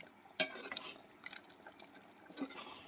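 Chicken curry being stirred in a pan while cooking, a faint wet scraping and bubbling with one sharp clack of the spoon against the pan early on, then soft sloshing movements, quiet and close.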